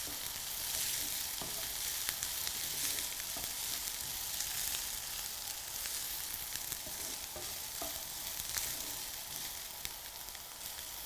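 Curry sizzles steadily in a hot pan while being stirred, a dense even frying hiss with occasional scraping ticks of the utensil, moderately quiet and with no voices.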